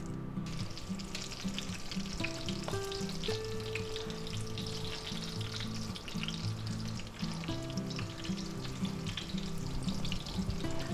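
Corn fritter batter sizzles in hot oil in a non-stick pan, a dense, steady frying hiss that carries on close and unbroken, with no talking.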